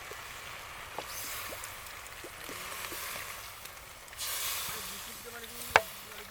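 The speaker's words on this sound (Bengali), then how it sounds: "এই জল দিয়ে দিয়েছি" Water poured into a hot pan of mushroom chicken curry with broccoli, cooked outdoors at a picnic, sets off a steady close sizzle that swells into a louder hiss near the end, with one sharp tick.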